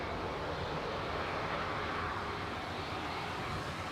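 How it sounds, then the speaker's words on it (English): A 21-year-old Jet2 Boeing 737-800 departing Manchester Airport for Gran Canaria, a steady broadband jet engine roar that holds constant and fairly distant, with no talking over it. "Jet 2995 to Gran Canaria, DRTZ departing there, 737-800."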